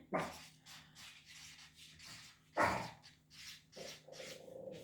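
A puppy indoors gives a couple of sharp, close barks about two seconds apart, with soft whimpers and yips filling the gaps. No one speaks.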